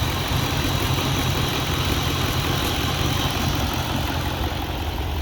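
Freshly LS-swapped Mazda RX7 running at idle with no coolant in it yet, a steady, loud, even engine drone with a deep low rumble that holds without change throughout.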